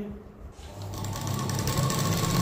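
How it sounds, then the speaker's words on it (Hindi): A sewing machine stitching a blouse hem with a hemmer foot, starting after a brief pause into a fast, steady mechanical whirring that grows louder, close by. "आधा हेम्बर से सिलाई चला रहा मैं"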